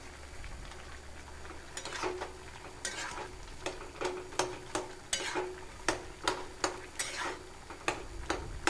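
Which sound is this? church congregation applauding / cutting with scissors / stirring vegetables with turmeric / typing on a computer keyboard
stirring vegetables with turmeric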